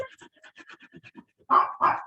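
A small puppy pants rapidly in quick close breaths, then lets out two loud sharp barks.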